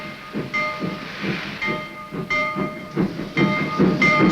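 A military train moves along tracks laid directly onto a South Korean beach. Steady rumble with rhythmic clacks and hissing bursts, fairly close, with no voices.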